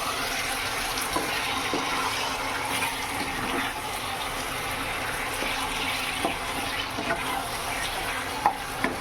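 Mango chutney with sugar being stirred in a pan, a continuous soft sizzle with scraping and occasional light clinks of the spoon, steady throughout with no talk.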